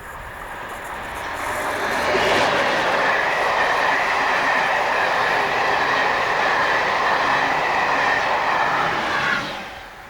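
Class 73 locomotive hauling a Gatwick Express train past, a loud, sustained rush of wheels and rolling stock that swells in, holds steady for several seconds and fades as it departs, no voices.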